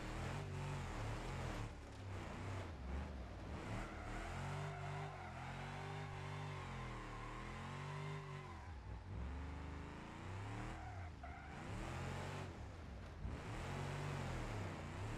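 Tuned car with aftermarket exhaust in the BeamNG Drive driving game revs continuously, engine pitch swooping up and down through repeated acceleration cycles, loud and steady with no pauses.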